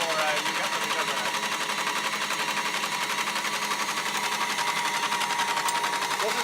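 An Office Clipper seed cleaner screening carrot seed through a number 6 screen gives a continuous rapid mechanical rattle and shaking clatter, steady and close for the full stretch.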